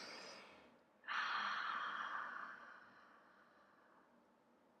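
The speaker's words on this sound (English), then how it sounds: "Take a deep breath with me." A single deep breath drawn in and let out slowly, close and soft, taken alone in a quiet room with no talking.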